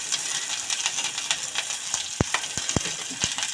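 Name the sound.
tempering frying in oil with hing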